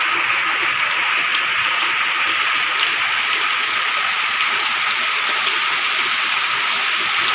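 Steady rain falls over a mountain village in Uttarakhand during the monsoon, a dense, even hiss of drops on surfaces that continues without break from start to finish, close and moderately loud.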